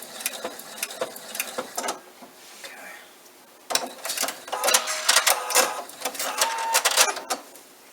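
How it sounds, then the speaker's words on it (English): A sewing machine stitches through bulky quilted fabric for a bunny bag in short rapid bursts of mechanical whirring, stopping and starting, with light handling noises in the pauses. "we've got it sewed across"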